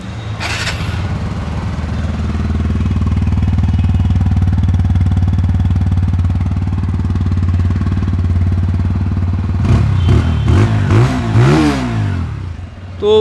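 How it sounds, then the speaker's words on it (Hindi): A 2022 TVS Apache RTR 160 2V motorcycle engine holds a loud, steady rumbling drone, then revs sharply several times near the end with rising and falling exhaust bursts. "अभी आपको सुनाते हैं वो नया वाला बाइक का एग्जॉस्ट नोट"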